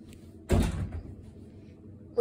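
A door bangs shut once with a fairly loud thud, followed by a short rattling decay over a quiet background.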